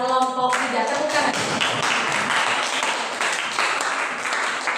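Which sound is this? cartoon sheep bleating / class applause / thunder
class applause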